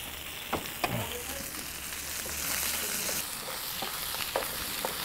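Chopped vegetables hit a hot pan that already holds pork chop drippings, bursting into a steady close sizzle with a few stirring scrapes and clinks of a utensil along the way, no one talking.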